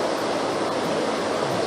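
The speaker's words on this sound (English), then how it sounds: "You can see the second rise of the waterfall there" A woodland waterfall spills down a valley in a steady, dense rush of white water that stays even and unbroken throughout, with no voices over it.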